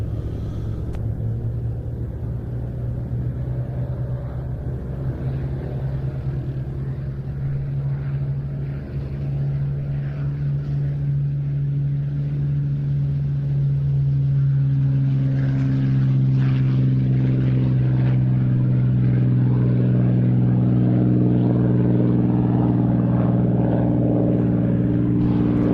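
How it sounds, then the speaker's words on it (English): A Spitfire taxiing to the hold at an IWM Duxford flying day: its piston engine gives a steady, loud, close rumble with a strong low drone that deepens and swells partway through. No voices. "the Spitfire rolling to go off to the hold"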